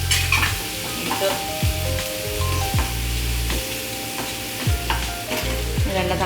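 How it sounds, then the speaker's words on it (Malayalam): Ginger garlic paste and green chillies sauté in a hot pan for prawn biryani, a steady loud sizzle broken by repeated scraping strokes of a spoon stirring, close and without talking. "ഇഞ്ചിയും വെളുത്തുള്ളിയും പേസ്റ്റ് ഒന്ന് വഴറ്റി വേണം"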